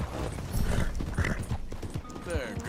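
A horse in the video game Red Dead Redemption 2 clip-clops along at a steady walk, its hoofbeats and a soft snort sitting under a person talking.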